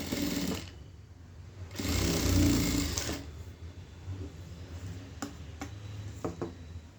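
A sewing machine stitches fabric for decorative hangings, running in two loud whirring bursts, then quieter ticking and light clicks as the work is handled, with no talking.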